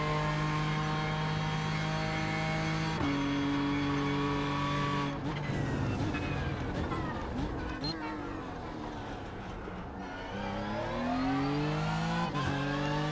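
Racing game engine sound of a current-generation NASCAR Cup car cornering, steady loud engine drone with pitch dropping and rising through the turn, alone and close.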